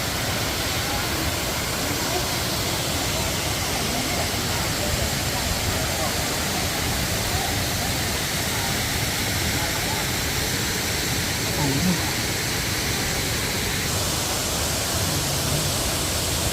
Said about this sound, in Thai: นี่น้ำตกสาริกา